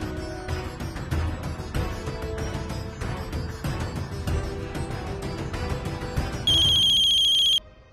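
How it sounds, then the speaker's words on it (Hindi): A phone ringtone for an incoming call in a Hindi TV drama sounds over busy background music, then rings alone as a loud, steady electronic tone near the end. "लो, रुद्र भैया का फोन"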